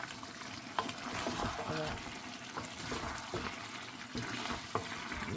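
Potatoes and bottle gourd cooking in a pan, a soft steady frying hiss with intermittent scraping of a spoon stirring through the pieces, fairly quiet, with a voice faintly present.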